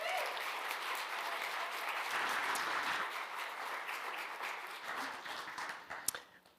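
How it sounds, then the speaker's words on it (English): An audience applauds speakers at a morning devotional gathering, a dense, steady wash of many hands clapping at moderate distance, holding for several seconds before thinning out near the end. "let's give our speakers a round of applause."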